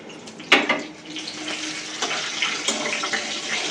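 Hot oil crackles as a bay leaf and whole cumin seeds hit the pan, a sharp burst of sizzle followed by a steady, close spitting fry with a few pops and stirs, no talking.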